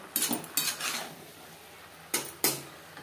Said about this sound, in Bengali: চিংড়ি মাছ বেশ ভালো করে মিক্স করে দেব।